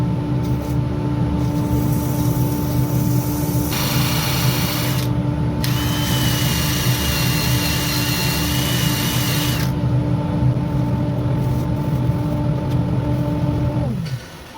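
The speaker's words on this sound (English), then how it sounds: "One of the ways to take out tear out is to sand in reverse if you can." A woodturning lathe runs steadily while a wooden pot is sanded in reverse, a loud continuous motor hum with a changing higher whine, before the machine spins down at the end.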